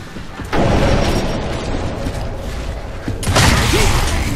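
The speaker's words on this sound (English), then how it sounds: "incoming frag!" A frag grenade explosion in Gears of War, a heavy booming burst that rumbles on with a second loud blast shortly after, no speech.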